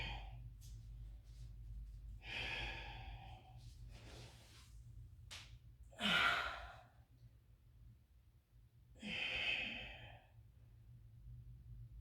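Slow deep breaths taken while holding a yoga wheel pose, three soft airy inhales and exhales spaced a few seconds apart over a low steady hum, close and quiet with no talk.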